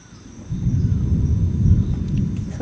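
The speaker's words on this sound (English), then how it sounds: "Some good thunder." Low, rolling thunder rumbles steadily over a quiet outdoor setting near almond trees, swelling after a soft start and holding at moderate loudness, with faint insect chirps above.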